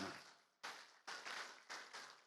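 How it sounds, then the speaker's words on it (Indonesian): A church congregation at a GBI Jelambar Timur worship service claps in a few sharp, loud group bursts, each fading before the next strikes in a loose rhythm. "Tepuk tangan buat Tuhan."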